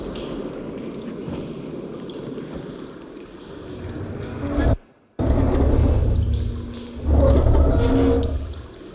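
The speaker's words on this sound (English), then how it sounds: "Gotta open the valve upstairs. Get that water circulating." Water rushing and circulating through pipes after a valve is opened in the video game Horizon Forbidden West, a steady loud churning broken by a brief silent gap, then surging back stronger.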